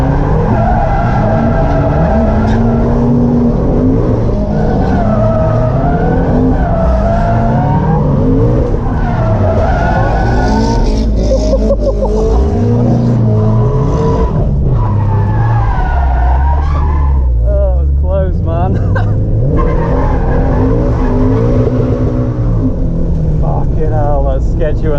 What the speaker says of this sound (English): For now, let's just do skids.